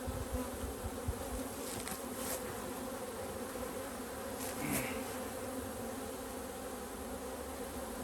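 Honey bees swarm around an open hive, giving a dense, steady buzzing drone at moderate volume with no talking over it.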